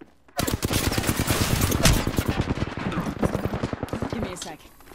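Rapid automatic gunfire from a weapon in the battle-royale video game Apex Legends, a loud sustained burst of close shots running about four seconds before cutting off.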